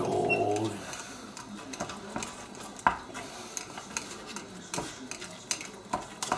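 A spoon or utensil stirs thick polenta (mamaliga) in a pot with faint scraping and soft irregular knocks against the side, steady and low in level with a brief louder clunk midway.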